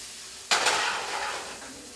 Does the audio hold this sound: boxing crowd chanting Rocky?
no